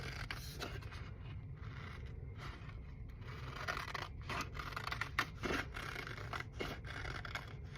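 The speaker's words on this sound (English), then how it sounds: "With my scissors now, keeping it folded closed, I'm going to carefully cut out my vase." Repeated crisp snips and scraping of scissors working through folded paper, close up, in a steady run of short cuts with no talking.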